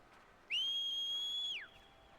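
A single piercing whistle from the video game Horizon Zero Dawn sounds for about a second, loud, clear and high-pitched, then cuts off into a quiet background.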